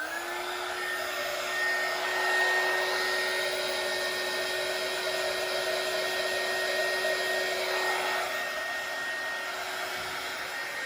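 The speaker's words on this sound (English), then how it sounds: "What I'm going to do now is go over it with a heat gun, because I want to create some nice beautiful shapes and some cells." A heat gun blowing hot air over fluid art paint to form cells, a loud, steady whine with a constant pitch that holds unbroken throughout, close up and without speech.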